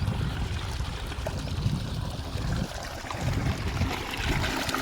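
Water from a borewell pump gushes and splashes continuously at close range, a rough, rushing flow with shifting surges and no voices heard.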